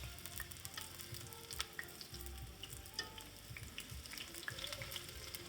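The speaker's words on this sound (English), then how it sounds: "Oh yeah, they're frying up." Cauliflower wings frying in hot oil in a home kitchen, a steady close crackling sizzle with scattered pops throughout, no talking.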